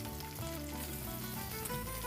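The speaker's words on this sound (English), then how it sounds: "you want it to sizzle as soon as your potatoes hit" Cooked potatoes hitting a hot cast iron skillet over medium-high heat, a dense, loud sizzle and crackle of frying oil, steady and close for a couple of seconds.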